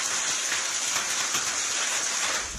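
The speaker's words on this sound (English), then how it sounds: "In Dubbo, the hailstones could be heard indoors and out." Heavy rain pours down in a dense, steady hiss, with hail drumming hard throughout and no voices, during a freak storm in Dubbo, Central West New South Wales.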